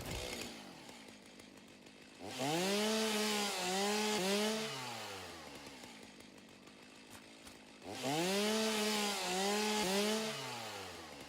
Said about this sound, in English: Grab our chainsaw here.